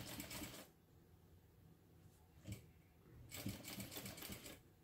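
A home sewing machine stitching fabric pieces in short bursts: a brisk whirring run at the start, a brief blip midway, then another sustained run, close by and alone without speech.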